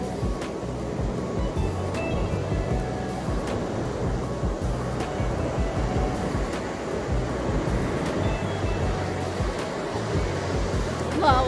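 Sea waves at the beach in Kenitra, a continuous broad rushing wash of surf with steady rumble, fairly loud and constant, no talking.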